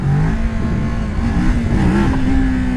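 A Kawasaki Ninja 650 motorcycle engine roars loud and close, its pitch dipping as the throttle is let off and then climbing again as it is opened back up.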